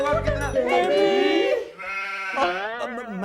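A goat gives a loud, wavering bleat close by, followed after a short pause by a second drawn-out bleat, with voices speaking in the background.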